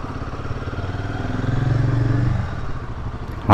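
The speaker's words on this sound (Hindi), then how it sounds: "हाई रेविंग इंजन है तो इसका आरपीएम आपको हाई रखना पड़ेगा।" A Royal Enfield Himalayan 452 motorcycle engine runs close by with a steady mid-pitched throb that swells and holds higher for about a second before easing back, ending in a sudden loud thump.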